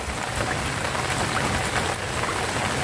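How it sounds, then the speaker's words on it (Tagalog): Steady rain pours over a rice paddy, a dense continuous hiss of drops close by and loud throughout, with no voices. "Kahit maulan mga kaboy, ayos lang."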